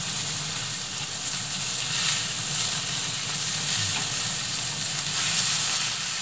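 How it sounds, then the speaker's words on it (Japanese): Pacific saury fillets sizzle in oil in a tilted frying pan over medium-low heat, a steady close crackling hiss with bright spattering that holds evenly throughout, no voices. "フライパンを傾けて油を回して、サンマとフライパンの間に油を入れます。 こうやって、焼き目をつけていきます。"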